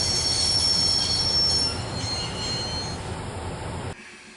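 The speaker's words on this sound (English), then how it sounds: "I'd always wanted to stop a train, and now was my chance." Train wheels squeal loudly as a train is brought to a stop in the video game Broken Sword, a continuous metallic screech over low rumbling that cuts off abruptly near the end.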